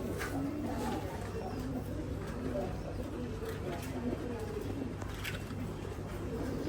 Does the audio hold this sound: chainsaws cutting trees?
no